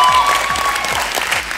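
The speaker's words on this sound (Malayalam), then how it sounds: "ഈ ഇരുവർക്കും നല്ലൊരു കൈയടി." Loud, close crowd applause for a performing duo on a Malayalam TV show stage, a dense burst of clapping with a faint tonal hum beneath.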